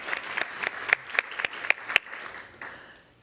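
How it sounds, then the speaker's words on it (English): A small audience applauds, a ragged patter of claps that peaks briefly and then thins out and fades. "Can we just get another round of applause for philosophy?"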